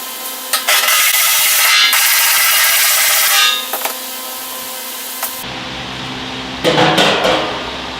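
Hammer blows on metal held against a dolly while flattening a panel, a loud sustained run of dense, rapid strikes for several seconds, then a pause and a short final burst near the end.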